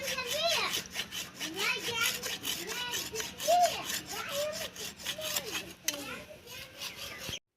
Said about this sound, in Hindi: मम्मी हसुआ को अच्छे से दोस्तों उसे रगड़ रहे थे उस पे